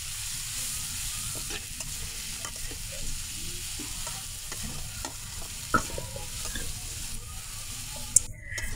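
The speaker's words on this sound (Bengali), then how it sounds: "পেঁয়াজ কুচিটাকে আমি খুব ভালো করে ভেজে নেব" Chopped onions fry steadily in hot oil in a village kitchen pan, a continuous close sizzle with a few soft stirring clicks and one sharp knock near the end.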